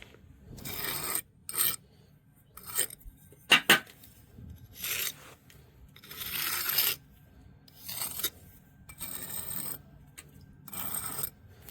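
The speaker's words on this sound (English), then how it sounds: "Sideways, scrape all the excess off." Excess material being scraped off sideways with a hand tool on an underground tornado shelter: a series of close, rough rasping strokes in short bursts separated by brief pauses, without talk.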